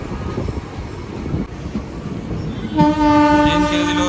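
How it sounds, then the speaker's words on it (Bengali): A Lalgola passenger train, number 53181, pulls into Kasimbazar station with a steady rumble of wagons, then a loud sustained horn blast sounds near the end. "আমাদের ট্রেন এসে পৌঁছালো কাশিমবাজার স্টেশনে"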